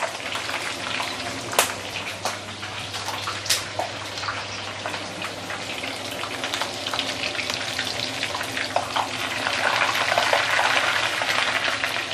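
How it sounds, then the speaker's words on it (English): Meat deep frying in hot oil for Maggie mee goreng, a steady dense sizzle and crackle running throughout with occasional sharper pops, fairly close and alone with no talking. "The body also I'm going to deep fry first because if you stir fry together with the noodle, most likely it won't be cooked."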